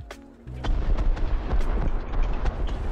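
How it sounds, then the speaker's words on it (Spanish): Tank explosions in the video game War Thunder, a deep rumbling barrage of booms and artillery-like blasts with sharp cracks layered over a continuous heavy low roar. "aquí bien se escuchan las explosiones"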